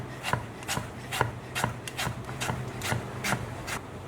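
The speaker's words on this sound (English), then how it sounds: "all we want to do is just slice this very thinly" A knife slices potatoes very thinly for fries on a board, each cut a crisp, quiet rasping stroke landing in a steady rhythm about twice a second, close up with no talk.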